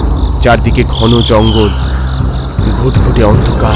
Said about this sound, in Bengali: হুঁশ ফিরিল প্রচণ্ড ঝিঝি পোকার শব্দে।